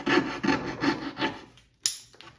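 Hand saw cutting a wooden board for dovetails, four rhythmic rasping strokes close by, then a pause and a brief scrape.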